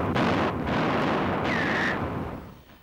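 Heavy 3.7-inch anti-aircraft guns fire in a wartime air raid over Nottingham, a loud sustained barrage of booming blasts that rumbles on for almost three seconds before fading, with no talk.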